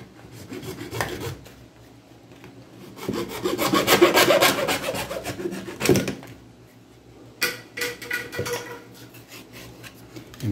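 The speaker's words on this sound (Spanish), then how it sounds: "Vamos a cortar el tubo PVC también por acá, del mismo largo," A PVC tube being hand-sawn for a homemade TV antenna: rasping saw strokes in uneven bursts, quiet at first, building to a dense stretch of cutting in the middle, then shorter rhythmic strokes near the end.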